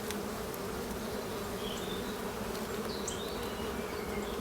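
A colony of honeybees inside an open hive gives off a continuous, close-up hum of many wings, level and unbroken for the whole stretch, with no one talking.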